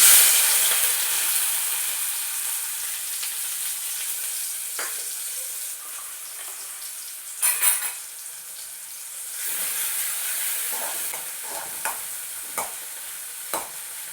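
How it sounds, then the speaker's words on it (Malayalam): Crushed shallots frying in hot coconut oil, a bright continuous sizzle with occasional spatula scrapes and a few sharper clinks, fairly close and without voices. "അപ്പോൾ ദേ വെളിച്ചെണ്ണ ഒഴിച്ച് കൊടുത്തിട്ടുണ്ട് ദേ വെളിച്ചെണ്ണ ദേ ചൂടായിട്ടുണ്ട് അപ്പോൾ നമുക്കിനി അതിലേക്ക് നമ്മൾ ചതച്ച് വെച്ച ഉള്ളി ഇട്ട് കൊടുക്കാം"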